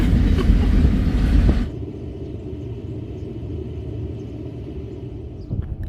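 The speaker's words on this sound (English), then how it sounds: "I'm separated from my group because I'm stuck at a train crossing" A heavy rumble of a passing train roars close by at a railway crossing in the North Dakota prairies, then drops to a lower, steadier rolling rumble as it continues past.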